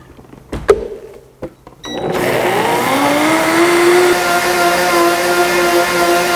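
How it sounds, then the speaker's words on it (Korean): An electric blender starts after a few soft clicks and knocks, then whirs steadily and loudly as it finely grinds roasted sesame seeds with chilled chicken broth, its motor pitch rising slightly and holding. "곱게 갈도록 하겠습니다"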